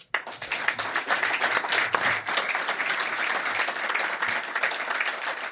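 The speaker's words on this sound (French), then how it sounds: "un grand merci à vous 3, on peut les applaudir" A studio audience applauds three sailing guests with sustained, dense clapping from many hands, steady and fairly loud throughout, with no voices over it.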